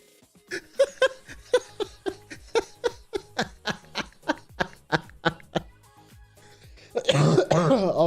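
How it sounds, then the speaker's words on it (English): A woman coughs in a steady series of about fifteen sharp, close bursts, then breaks into laughing at the end. "I'm coughing."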